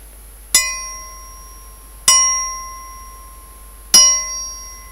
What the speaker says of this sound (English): Look at this old triangle.